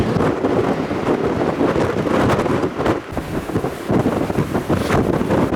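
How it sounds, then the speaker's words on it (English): Steady, loud wind buffeting a microphone outdoors at a Danish viewpoint, a continuous roaring rumble with gusts that swell and dip throughout, no voices heard. "It's a little bit more windy than California"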